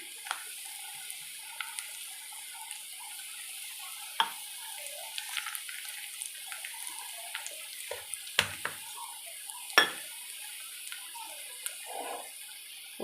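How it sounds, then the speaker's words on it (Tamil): Vegetables with turmeric stir-fried in a pan, a soft steady sizzle under scattered scrapes and clinks of the spoon against the metal, quiet and close, with no talking. "நம்ம நல்லா இது கிண்டி ஃப்ரை பண்ணிடலாம்."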